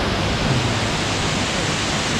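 A waterfall in the Sapa mountains of northern Vietnam roars as a steady, dense rush of falling water. The broadband noise is continuous and fairly loud, with no voices over it.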